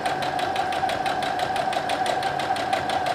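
Sewing machine stitching a seam toward a fabric corner, a steady rapid mechanical chatter of needle strokes repeating evenly and close, loud and alone without talk.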